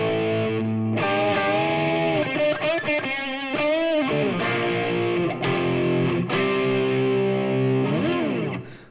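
An electric guitar on its middle pickup position plays distorted, sustained notes with bends and slides, loud and close, running continuously with no talking.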